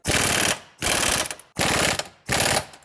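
Impact gun tightening a bolt on a 2006 Subaru Forester lower control arm: four loud, close rattling bursts of about half a second each, separated by short pauses, with no talking.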